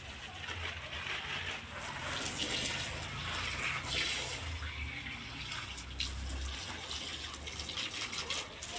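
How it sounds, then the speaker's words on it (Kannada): Water runs steadily from a tap or pipe while a small home garden with chilli plants is watered, a continuous close rush and splash lasting several seconds with no clear talking. "ನೋಡಿ ನೀರು ಬಂದೈತಲ್ಲ"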